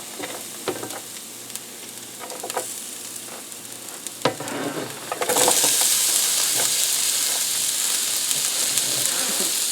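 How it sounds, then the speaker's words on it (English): Garlic, ginger and onions hit hot oil, a few clinks and stirs giving way halfway through to a loud, steady, close sizzle of frying that continues to the end. "So let's get them into the oil."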